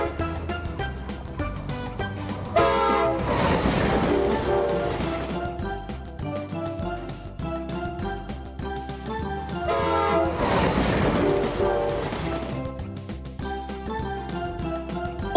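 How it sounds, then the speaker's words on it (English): A train rolls along steadily for about fifteen seconds, with repeated horn blasts rising above the rumble of the cars on the track. "Metro. Train."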